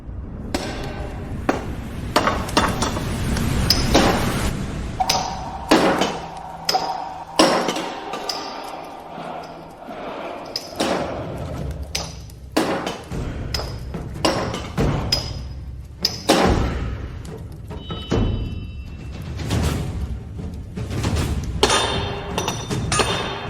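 Repeated hammer blows ring out on iron at a blacksmith's anvil, irregular in rhythm, loud and close, with clinking metallic hits over a steady stretch of forging.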